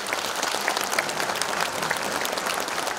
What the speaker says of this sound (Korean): 힘찬 성원과 뜨거운 박수 부탁드리겠습니다